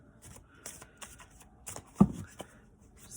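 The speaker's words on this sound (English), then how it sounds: "Just get some shuffling." Playing cards are shuffled in a few quick riffling bursts, soft and close, ending with a sharper tap as the deck is squared.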